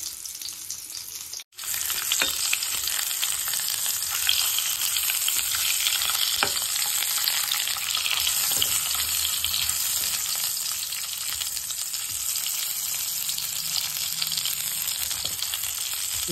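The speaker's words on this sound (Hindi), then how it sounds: "तो इसको सीधा ही खड़ा इसमें ऑयल में फ्राई कर देंगे ताकि" Whole kebabs frying upright in hot oil give a loud, steady, dense sizzle that barely changes, with a faint scrape near the start and no voices.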